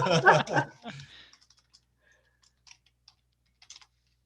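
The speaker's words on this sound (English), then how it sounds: "Today I'm clearly typing as good as I'm talking." After a few seconds of speech, sparse soft keystrokes on a computer keyboard tick away in the quiet, irregular and faint.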